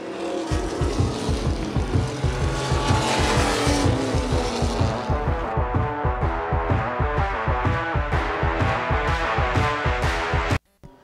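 Four-cylinder race cars roar around a short track during a points race, several engines blaring together loud and close with steady drone and tire noise, then the sound cuts off abruptly near the end.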